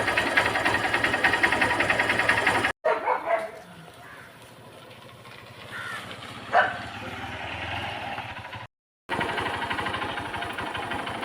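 A Honda Unicorn/Shine motorcycle engine runs after a carburetor fix, with a loud, dense idle for a few seconds, then a quieter stretch, a brief cut-out, and the running sound returning strongly.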